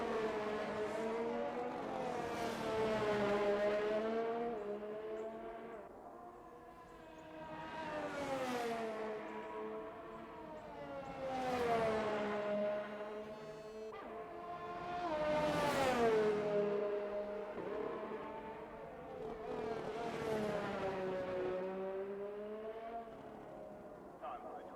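Race cars circle the Belgium GP track in an online racing game, their engines rising and falling in repeated sweeping passes, each one swelling louder then fading, with a steady hum between passes.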